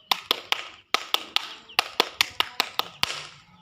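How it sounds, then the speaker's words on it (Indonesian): Indonesian scout group clapping in a rhythmic tepuk pramuka pattern, a run of sharp, crisp hand claps in uneven bursts with brief pauses, clear and close with no voices. "Sebelum saya akhiri, kita tepuk pramuka dulu ya."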